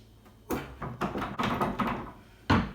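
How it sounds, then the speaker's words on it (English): A sliding door carried on rollers being set onto its track, with a sharp thunk, a run of rattling knocks and scraping, then a final solid clunk, close by and without talk. "we're going to go ahead and set the door onto the track"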